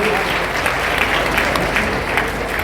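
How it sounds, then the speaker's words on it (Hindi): An audience claps at a school annual function, a steady wash of applause filling the whole stretch with a loud, even texture and some crowd noise mixed in. "तालियां बजाने से स्वागत करो।"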